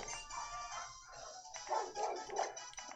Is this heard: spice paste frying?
no